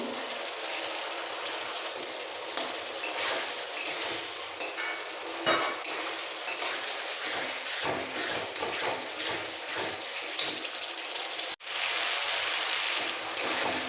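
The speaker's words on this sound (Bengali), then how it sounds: "সব মশলা একসাথে ভালো করে কষিয়ে এই কষাতে কষাতে দিয়ে দেবো ভেজে রাখা আলু" Spices and previously fried potatoes stirred and sautéed together in a pan for a small rohu fish curry, a steady broadband sizzle broken by frequent scraping stirs, close and continuous with no talk.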